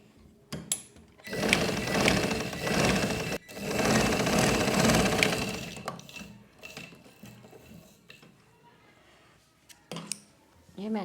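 A sewing machine stitches a child's umbrella frock in two loud, close runs of rapid mechanical chatter, each lasting about two seconds. A brief pause separates them, and softer handling and rustling follow.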